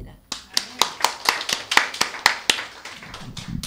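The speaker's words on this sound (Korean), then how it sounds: "하나의 영광의 박수 올립니다." About a dozen sharp, evenly spaced hand claps ring out in a steady rhythm at a church service, close and fairly loud, with a voice briefly heard at the end.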